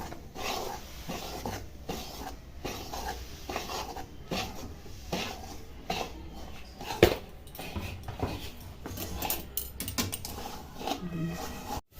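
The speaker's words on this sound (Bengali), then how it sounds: "অল্প অল্প করে চালের গুঁড়ো দিয়ে মিশিয়ে নিতে হবে গুড়ের সঙ্গে ভালোভাবে" Rice flour stirred into cooked jaggery in a pan while making a Jharkhand sweet, with steady scraping and clinking of a spoon against the pan in an irregular rhythm, close and moderately loud throughout.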